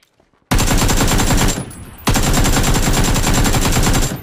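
AK rifle firing in PUBG, two long loud bursts of rapid automatic shots, close and dominant, separated by a brief pause, with no talking.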